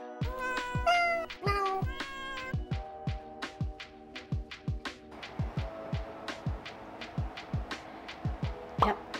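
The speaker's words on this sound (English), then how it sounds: "Yep, there's a cat there." A cat meows several times early on, near and moderately loud, followed by a steady series of soft rhythmic thumps or purr-like pulses in a quiet indoor room.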